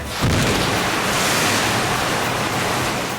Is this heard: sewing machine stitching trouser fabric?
no